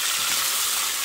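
Zucchini and other vegetables fry in a pan in a garden cooking setting, a loud, steady hiss of sizzling oil close by with no talk.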